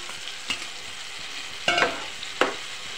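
Spice-washing water is poured into chicken frying in a pan, giving a soft continuous sizzle with a few sharper bursts of hissing and stirring scrapes.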